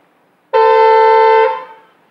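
A single loud, steady horn blast held for about a second, close by, then quickly fading.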